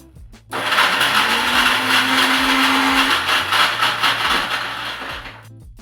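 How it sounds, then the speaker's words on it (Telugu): A kitchen mixer grinder runs on coconut pieces with cardamom, starting abruptly into a loud, steady whirring grind that holds for about five seconds before cutting off, close up with no talking. "కొబ్బరిలో వేసుకొని కొంచెం మిక్సీకి వేసుకొని వస్తానండి"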